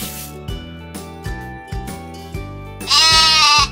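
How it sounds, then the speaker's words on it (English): A sheep bleats in a clear run of repeated baas, moderately loud and close, with a louder, brighter cry near the end; no voices are heard. "Baa!" bleated the sheep."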